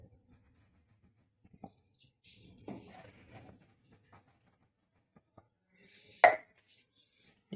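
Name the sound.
cutter cutting rolled doughnut dough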